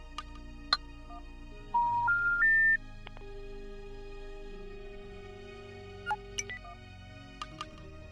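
A phone rings in the video game The Dark Side of the Moon: a clear electronic ringtone of stepped rising tones followed by a long held note, fairly quiet against a soft ambient hum, with a few faint clicks afterward.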